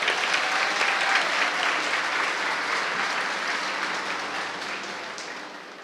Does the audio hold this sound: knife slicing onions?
no